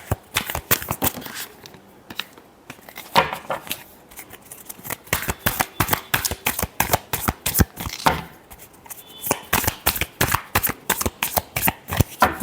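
Tarot cards being shuffled by hand during a love reading, a long run of rapid crisp riffling bursts and slaps in quick irregular rhythm, close and fairly loud with no talk.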